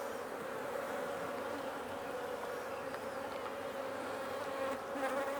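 Honey bees swarm around an opened hive during an apiary inspection, their buzzing a dense, steady, close drone that holds without pause and carries no talk.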